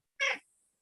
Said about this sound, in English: you've just got your cat meowing there